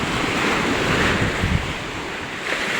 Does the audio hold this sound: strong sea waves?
yes